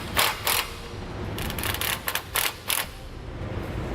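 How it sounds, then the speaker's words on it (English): Ratchet wrench snugging bolts on a Westin Sportsman grille guard bracket on a 2003 Ford Explorer, heard as a few short bursts of clicking close by, separated by pauses. "Now I'm just going to run my bolts in a little bit just to take out some of the slack."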